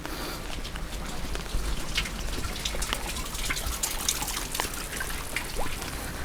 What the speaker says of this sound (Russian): дождь идет